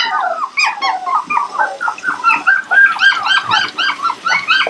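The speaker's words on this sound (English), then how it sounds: "Alright, it's bath time, and this is Xena." A six-week-old Aussiedoodle puppy whimpers and yips during a bath in rapid, high-pitched bursts, nearly continuous and close by, with a faint splash of water underneath.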